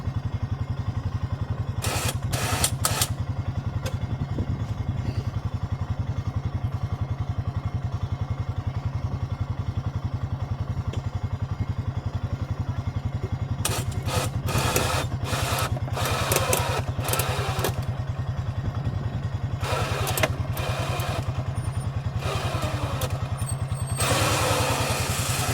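An ATV engine runs while pulling a car, a continuous low, steady drone broken by intermittent louder bursts of rattling and clatter.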